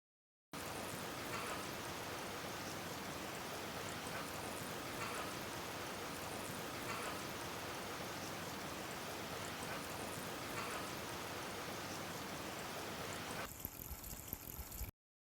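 Water poured steadily into a container of water beads, giving a continuous soft splashing rush at a low level that stops abruptly near the end with no voices.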